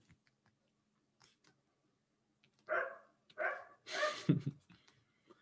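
A small dog barks outside, across the street, in three or four quick sharp barks that sound moderately close, in an otherwise quiet room.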